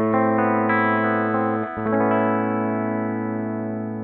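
An electric guitar plays through a Mooer GE100 processor on its Fender Clean preset, giving bright, ringing chords and sustained notes that slowly fade, heard alone.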